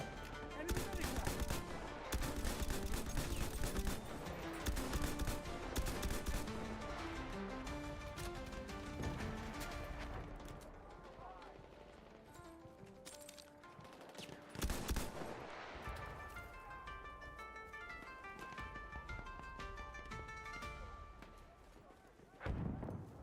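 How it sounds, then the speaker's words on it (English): An enemy machine gun firing in the First World War shooter Battlefield 1: dense bursts of rapid gunfire crackle through a busy battlefield mix layered with sustained musical tones, strongest in the first half. "There, enemy machine gun."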